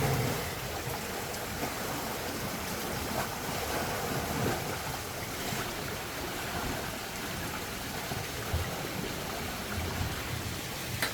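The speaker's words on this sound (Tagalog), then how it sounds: "Pabugso-bugso yung ulan." Intermittent rain during a typhoon makes a steady, broadband hiss outdoors, with soft swells of wind and water noise and no voices.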